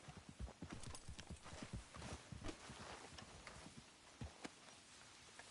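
Horse hooves clip-clop at a walk in the Western-frontier open world of Red Dead Redemption 2, a steady close rhythm of hard knocks on dirt with a few louder strikes and faint game ambience underneath.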